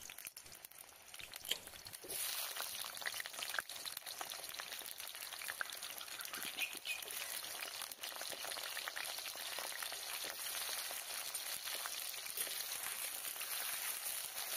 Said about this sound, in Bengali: প্রথমে আমি আলুটাকে ভেজে তুলবো।